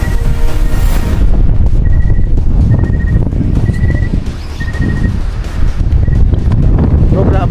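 Strong wind at a mountain campsite in Pangil, Laguna roars and buffets the microphone continuously, loud and steady, with brief faint whistling tones cutting through.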